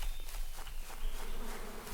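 Bees buzz in the APICO bee-breeding game, a soft, steady drone with faint flickering wingbeats and no voices.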